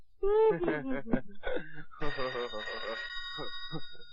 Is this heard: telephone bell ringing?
yes